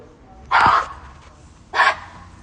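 A small dog lets out two loud, close barks about a second apart, with quiet background between them.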